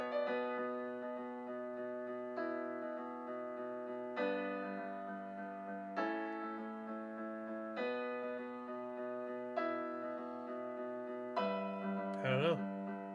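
Piano plays music from the video game Skyrim: slow, sustained chords struck about every two seconds, ringing evenly and alone, with a brief warbling sound near the end.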